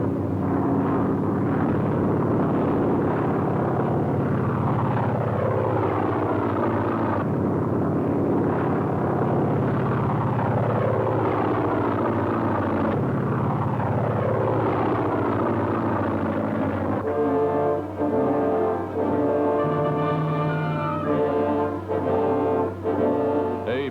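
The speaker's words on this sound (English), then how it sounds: "From the air, Navy fighters dive, simulating an actual attack as gunners fight them off." Navy fighter planes of 1943 dive in a simulated attack, their engines roaring continuously and loudly with repeated rising and falling sweeps as each aircraft passes. Heavy rumbling fills the background throughout, with no talk.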